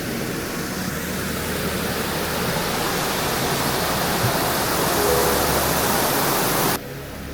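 A waterfall near a stay in Kodaikanal roars in a dense, steady rush of water close by, holding constant before abruptly dropping off near the end, with no one speaking.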